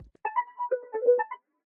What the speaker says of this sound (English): The next sound is this ear candy, which sounds like this.